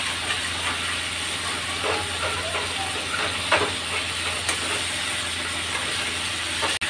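Chicken cooking covered in its own released juices in a pot for tehari, a steady, close hiss of sizzling and steam with occasional faint ticks and clinks.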